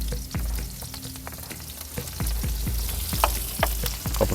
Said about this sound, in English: you want to just saute that up for a minute, get those flavors out